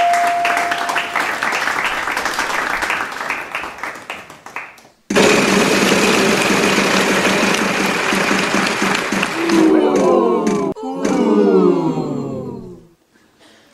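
Wheel of Fortune game-show wheel spin sound effect, a loud rapid ratcheting clatter that runs on, breaks off, restarts and slows with squeaky tones before cutting out, with crowd-like applause underneath early on.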